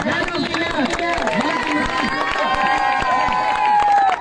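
Crowd at a village six-a-side cricket tournament final in Roday, Pattoki, applauding and cheering steadily as a loud continuous wash of clapping and voices, with an announcer's voice speaking over it on a public address system.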